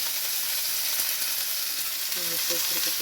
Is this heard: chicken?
no